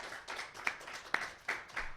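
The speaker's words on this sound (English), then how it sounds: "So if we give them a round of applause" An audience applauds panelists at a community panel discussion, with a quiet patter of scattered hand claps from a small crowd, a few sharper claps standing out, and no one speaking.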